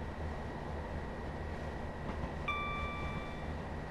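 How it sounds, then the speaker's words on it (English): A Class 158 diesel unit in Train Sim World 4 rolls along with a steady rumble, one soft clunk as it crosses the points, and a thin high tone entering near the end. "you can hear the track clunks"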